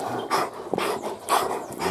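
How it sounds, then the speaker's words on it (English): A dog panting close by, in quick rhythmic bursts of breathy huffs, loud and unaccompanied by talk. "Bad dog."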